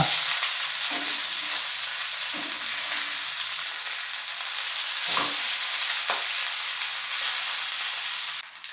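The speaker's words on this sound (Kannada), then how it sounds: "ಇದನ್ನು ಕೂಡ ತಿರುಗಿಸಿ ಇನ್ನೊಂದು ಸೈಡ್ ನಾವು ಚೆನ್ನಾಗಿ ಬೇಯಿಸ್ಕೊಳ್ಳೋಣ" Anjal fish fries in a pan, village style, with a constant bright sizzle and hiss. A few soft scraping stirs are heard under it, and there are no voices.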